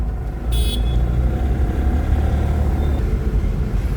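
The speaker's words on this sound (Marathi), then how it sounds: "आता इकडे सर्व वाहन बाजार आहे बघा." Traffic at a vehicle market in the Vinay Nagar area, a constant close rumble of car and motorbike engines with a brief high toot early on.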